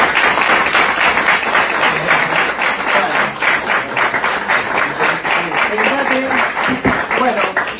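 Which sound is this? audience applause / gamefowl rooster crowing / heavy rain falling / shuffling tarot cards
audience applause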